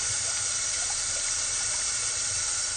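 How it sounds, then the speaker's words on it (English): Cold tap water runs steadily over blanched greens in a kitchen sink, a continuous close, bright splashing rush with no pauses. "Dump them out and run them under cold water."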